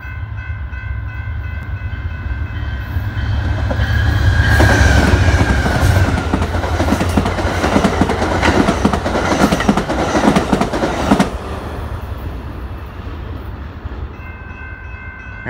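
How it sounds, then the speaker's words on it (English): The Amtrak Southwest Chief, Train 3 westbound, led by the 50th anniversary heritage unit 161, passes West Hinsdale with a loud roar and clattering wheels, its horn sounding as the train builds and then recedes, with no talk. "Amtrak Southwest Chief, Train 3 Westbound."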